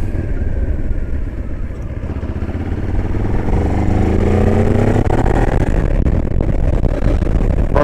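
A 2025 Moto Morini X-Cape 700 adventure motorcycle heard close while riding, its engine note rising under throttle with heavy wind rumble, loud and continuous, with no speech.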